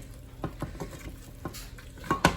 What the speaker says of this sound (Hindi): ये वुड का स्पून इसलिए लिया है कि इस भुनाई में इसमें बहुत फोर्स लगानी पड़ रही है